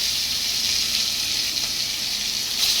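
Pangas fish fries in oil in a home kitchen, giving a steady, fairly soft sizzle that holds evenly throughout with no talking.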